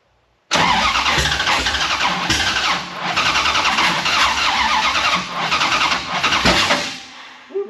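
An old Dodge car engine cranking and trying to start, a loud, continuous grinding and rumbling roar with uneven surges that cuts off abruptly, heard close up with no talking.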